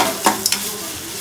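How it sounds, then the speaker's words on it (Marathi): Chicken spring rolls fry in hot oil with a steady, close sizzle, and a few brief clinks and scrapes cut through it; there is no talking. "मग तेलामध्ये फ्राय करायचं."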